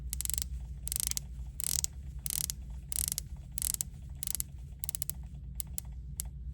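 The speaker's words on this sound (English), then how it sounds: "Let's take a listen to bezel action here quick." A Tudor Black Bay dive watch's rotating bezel turns in quick runs of sharp ratcheting clicks, close and crisp, broken by short pauses over a quiet background.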